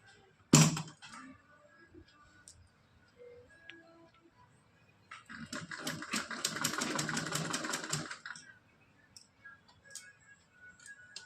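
A sewing machine stitches net fabric for a dress, running in a fast, rhythmic mechanical burst for about three seconds amid quiet room sound, after an earlier sharp click.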